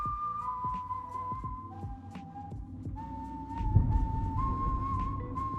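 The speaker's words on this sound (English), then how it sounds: "You don't know how much this whistling freaked me out when his soundtrack came on." A lone human whistle carries the Wolf's ominous theme from Puss in Boots, slow held notes stepping up and down over a faint low heartbeat-like throb and hum.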